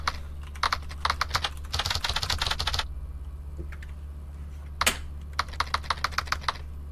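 Typing on a computer keyboard: close, crisp key clicks in quick irregular bursts, with a longer dense run in the middle and short pauses between groups, heard on their own without talk.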